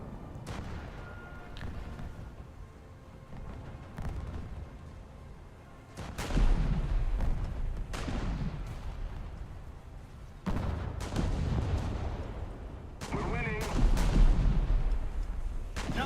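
Naval gunfire in a warship combat video game, with heavy booming salvos at about 6, 10.5 and 14 seconds over a steady rumbling battle ambience, each blast loud and close with a long rolling tail.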